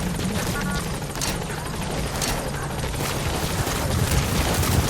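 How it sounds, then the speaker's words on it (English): A support helicopter arrives at a landing zone in Metal Gear Solid V: The Phantom Pain, its loud rotor wash forming a steady, dense roar that holds throughout without breaks. "Support helicopter has arrived."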